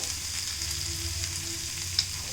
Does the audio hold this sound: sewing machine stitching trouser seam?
no